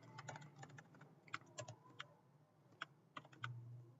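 Password typed on a computer keyboard while creating an online account: a quiet, close stream of irregular key clicks in short bursts, with brief pauses between them and no voice.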